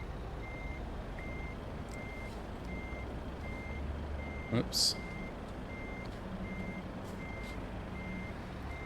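A truck reverses in Euro Truck Simulator 2, its steady, evenly spaced beeps repeating across the whole stretch over a low engine rumble. There is a brief clunk midway and a short spoken aside.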